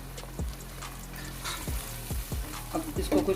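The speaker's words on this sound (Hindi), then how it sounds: "अब इसको कुछ देर हम भूनेंगे।" Onion, tomato, green chilli and garlic-ginger paste frying in a pan for kadhi pakora, a steady soft sizzle broken by several sharp stirring knocks of a spoon against the pan, close by, with no talk.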